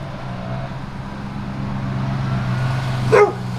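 A steady low vehicle rumble builds gradually as a Ram TRX pickup truck draws nearer, with a single dog bark cutting in near the end.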